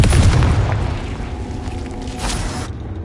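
The Confringo blasting spell in Hogwarts Legacy detonates in a single heavy explosion, a deep booming burst up close that rumbles and decays over a few seconds before cutting out.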